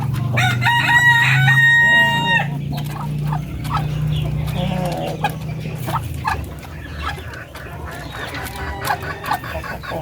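A chocolate Orpington heritage-breed rooster crows loudly and close by at the start, with chickens clucking and rustling through the rest of the flock's noise.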